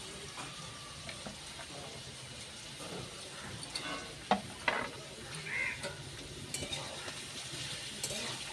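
Chopped onion and split green chillies fry in a pan with a soft, continuous sizzle, a few sharp clinks of stirring midway, and no talk over it.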